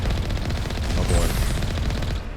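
Rapid gunfire rattles against the Mako vehicle in the Mass Effect game, a loud, dense stream of overlapping shots and impacts that does not let up.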